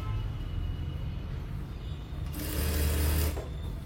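Sewing machine stitching a fall onto a saree in a tailoring shop, a soft, quick mechanical whirr that runs steadily and grows a little louder in a burst near the end, close and alone without speech.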